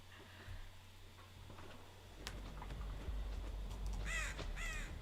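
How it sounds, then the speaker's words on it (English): Crow caws in the Dead by Daylight horror game: a pair of harsh, ragged calls near the end, rising over a steady low rumble of ambient game noise, with no talking. "I heard the crow, so I knew"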